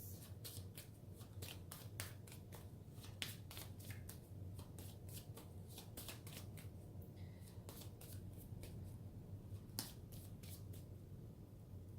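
Tarot cards are drawn from the bottom of a deck in a quiet room, producing a series of crisp, quick card flicks and slides, some in rapid bursts, fairly close but at low volume.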